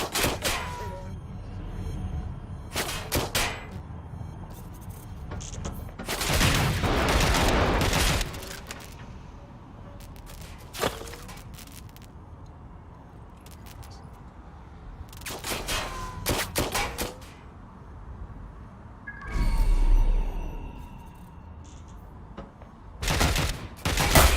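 Gunfire in Watch Dogs: Legion, with sharp bursts and rapid fusillades breaking out repeatedly over a low rumble, some volleys loud and sustained, others short and isolated.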